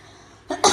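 One sharp, close cough bursts out in two quick pulses at the end of a quiet moment in a home kitchen.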